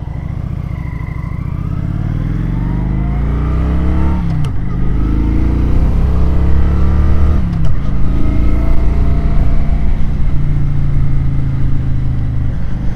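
A 2015 Kawasaki Vulcan 900 Custom, a fuel-injected, belt-drive Japanese cruiser, rumbles steadily while being ridden, its engine note rising and falling through gear changes, loud and close with no talking.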